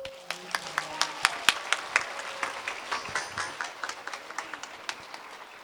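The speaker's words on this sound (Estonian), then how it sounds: "õpetajad, aplaus!" An audience at a school playback show claps for the teachers after their performance. Separate, fairly sharp claps come in an uneven patter at the start and thin out over a few seconds, with faint tonal sound in the background early on.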